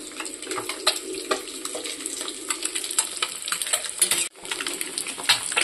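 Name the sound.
eggs frying in oil in a wok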